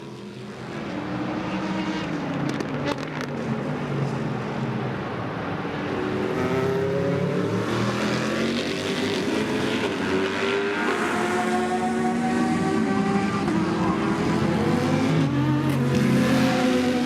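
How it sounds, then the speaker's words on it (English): The number 31 Whelen Engineering race car laps at the Daytona 24-hour race, its engine note rising and falling as it passes, mixed with other cars droning continuously at a distance in a steady, loud wash of motor noise. "the number 31 Whelen engineering car kept pounding round"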